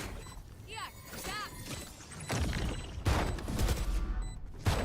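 Rapid gunfire from the tactical shooter Valorant crackles in bursts through a pro esports match, growing louder and denser in the second half, with excited commentary voices talking over it.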